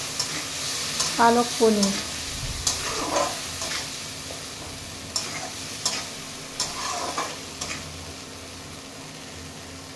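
Spices fry in a pan for restaurant-style palak paneer, with a soft continuous sizzle and repeated clacks and scrapes of stirring, and a voice speaks briefly near the start.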